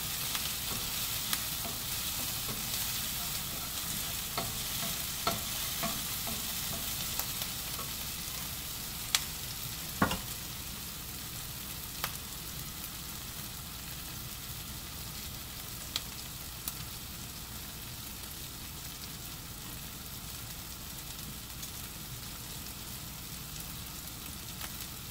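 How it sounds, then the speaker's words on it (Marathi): Chopped onions roast and fry in a pan for kohlrabi bhaji, giving a steady dense sizzle throughout with scattered light taps and scrapes of stirring, close and even in level, no talk. "पहिला मस्त आधी भाजून घ्यायचं छानपैकी. कांदा एकदम छान भाजला गेला पाहिजे."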